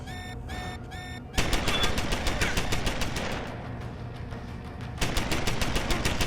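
A video game turret fires in rapid, continuous bursts of gunfire, loud and close. It opens with a few short separate volleys, then settles into a dense, sustained stream of shots.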